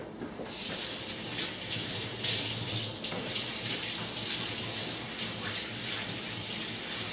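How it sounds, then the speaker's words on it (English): Hands washed under a running kitchen tap during preparation of stuffed grape leaves, a steady close hiss of flowing water splashing into the sink with slight shifts as the hands move, with no talking. "actually, Joe, I'm going to wash my hands."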